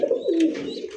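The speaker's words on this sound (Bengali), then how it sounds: "রাবি ভাই, ছোট কবুতর গোলা দেখেন ভাই, একদম মানে শাইনিংটা দেখেন কবুতরের সামনে" A pigeon coos close by in a short soft burst of low, throaty notes, with no talk over it.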